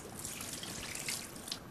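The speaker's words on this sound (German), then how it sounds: "nicht vergessen, ich werde das Salbei waschen." Water runs steadily over fresh sage leaves as they are washed under a tap in a kitchen, a continuous close trickle and splash with no talking.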